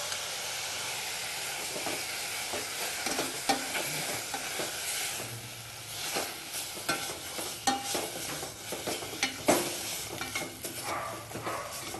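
Herbs and salt fry and sizzle in a pan on a steady hiss, with scraping stirs and clinks of the spoon popping up throughout; no one speaks.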